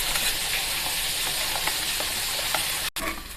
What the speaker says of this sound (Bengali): বন্ধুরা, আমার আলুটা ভাজা হয়ে গেছে,